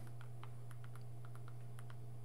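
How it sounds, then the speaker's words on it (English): Keys on a computer keyboard tapped in a quick, light run of soft clicks, faint and close over a steady low electrical hum, with no talk. "So all I need to do is type in Tmux"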